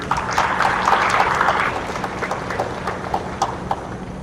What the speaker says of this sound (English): Can you bring round of applause for us, please?